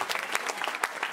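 A church congregation claps during a sermon, bursts of many hands with sharp, uneven peaks, moderately loud and heard without talk.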